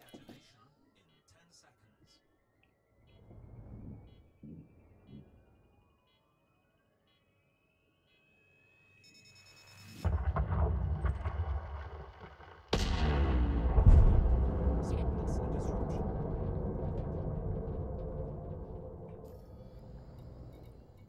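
Mining explosives detonate in a video game: after a near-silent stretch with a few soft thuds, one sharp blast lands, then a second, heavier blast rolls into a long, fading rumble of debris.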